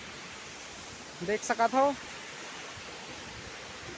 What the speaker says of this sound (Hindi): ये हवे नकिया वाटरफॉल संगवारी हो वाटरफॉल झरना